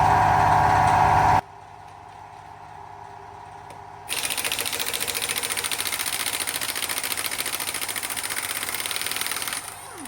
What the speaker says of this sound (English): So I got an air compressor that makes about 2 pounds in air an hour.